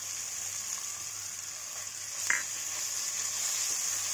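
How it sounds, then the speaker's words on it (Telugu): Grated raw mango frying in oil in a pan, giving a steady, quiet sizzle with one brief stirring knock partway through and no talk. "మనకి ఆయిల్లో మామిడికాయ మంచిగా మగ్గాలి."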